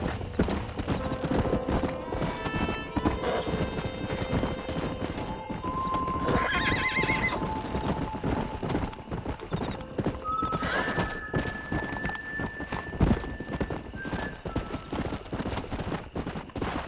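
Horses in the Red Dead Redemption video game, with steady clip-clopping hooves running throughout and several loud neighs and whinnies rising over them, set against game music and ambience.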